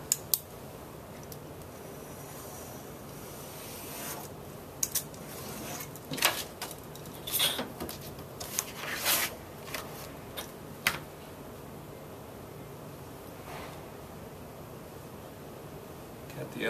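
A blade trims a presentation board along a straight edge, producing scattered short scraping and clicking cuts that cluster in the middle, close but fairly faint over a quiet room tone.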